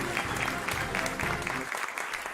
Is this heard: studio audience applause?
yes